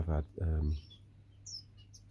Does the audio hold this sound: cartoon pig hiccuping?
no